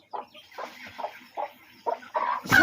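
A rooster clucks in short repeated bursts, close by, ending with a louder crowing squawk; no talking.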